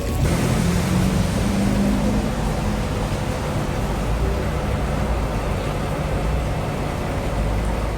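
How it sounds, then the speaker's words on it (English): Steady rain pours down outside a Houston street setting, a constant, loud broadband hiss filling all eight seconds with no pauses, a faint low rumble underneath. "But now it's raining."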